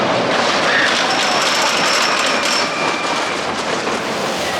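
The Big Dipper, a classic wooden roller coaster at Blackpool Pleasure Beach, rumbles along its track in a steady, loud, continuous roar of rolling wheels and rattling cars, with no voices over it.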